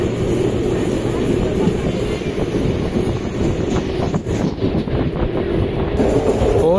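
A MEMU passenger train bound for Pondicherry rumbles past close by, loud and continuous, with rattling wheels and wind buffeting the microphone; no voices.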